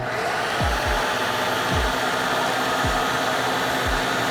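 A blender on its puree setting whirs loudly and steadily through a honey habanero sauce, a constant close roar broken by a few low thumps as the contents churn.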